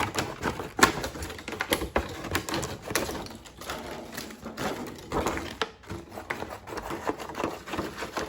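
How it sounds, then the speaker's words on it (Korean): Scissors cut through a plastic container in a series of sharp crisp snips and crackles, irregular and close, with small rustles of the plastic between cuts. "먼저 네모나게 가위를 이용해서 잘라보겠습니다."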